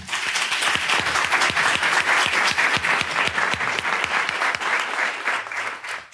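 An audience at a foundation event gives John a full, dense round of applause, many hands clapping steadily and loudly for about six seconds without letting up.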